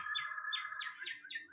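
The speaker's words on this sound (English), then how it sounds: "Well, hello, Mr. Cardinal. I hear you." A cardinal sings a quick series of clear, repeated whistled notes, fairly faint and outdoors, with no talking.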